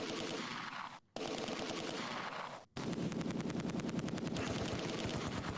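MG42 machine gun fire in the video game Close Combat 2, long loud rapid bursts broken by two brief pauses, with a fast even rattle in the final stretch, no talk.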